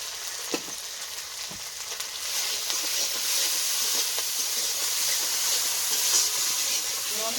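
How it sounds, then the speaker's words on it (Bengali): Spices with slit green chillies, turmeric and salt frying in hot oil in a pan, a steady close sizzle and hiss that holds throughout, with a few faint clinks early on and no voices. "মশলাটা একটু ভেজে নিয়ে"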